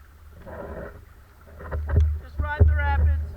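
A kayak rides river rapids in Alaska, with rushing water and wind buffeting up close while someone talks and shouts over the noise.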